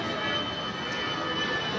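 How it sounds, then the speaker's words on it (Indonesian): An airplane flies overhead outdoors, a steady broad roaring engine wash, moderately loud and continuous throughout. "ada pesawat."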